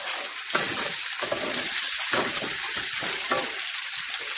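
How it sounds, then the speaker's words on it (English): Bacon frying in a pan for a shepherd's pie base, a steady loud sizzle with crackling bursts and occasional stirring scrapes throughout, no talking. "we're going to cook this until, not necessarily until the bacon is totally crispy, but just until that it's not raw"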